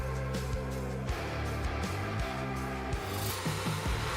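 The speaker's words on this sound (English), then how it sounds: "With these wood splitters" A Chippo 8010C wood splitter works through a log with steady mechanical grinding, rubbing and rasping, broken by a few sharp creaks and cracks, fairly close and continuous with no talk.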